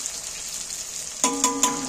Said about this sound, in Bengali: এই পেঁয়াজটা একটু কড়া তেলে না ভাজলে হবে না।